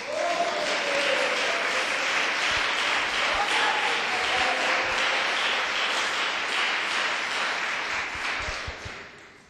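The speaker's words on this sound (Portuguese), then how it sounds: "Pode dar uma salva de palmas para Jesus." A church congregation breaks into sustained applause, a broad continuous clapping that stays loud and even before easing off slightly at the end, with some crowd voices mixed in.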